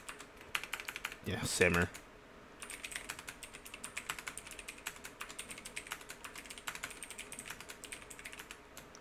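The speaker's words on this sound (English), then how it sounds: "I'm going to just type it manually" Fast typing on a computer keyboard, a dense run of light clicking keystrokes that carries on steadily and close by, with a brief spoken interjection early on.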